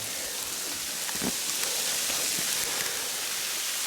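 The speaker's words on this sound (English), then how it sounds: "It's hailing and there's snow mounting, falling off the trees" Hail patters steadily through a snowy New Zealand forest on a ridge, a dense wash of small ticks and taps with a few sharper hits. No one speaks.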